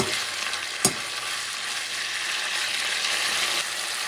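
Chicken sizzles steadily in a pan over medium-high heat, a dense continuous frying hiss with one sharp spatter or utensil knock near the start.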